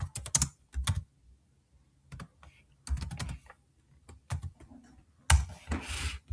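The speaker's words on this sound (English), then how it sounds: "I'm gonna type in Cleverbot." Typing on a computer keyboard in short clustered bursts of clicks and taps, close and fairly quiet, separated by brief pauses, with no speech.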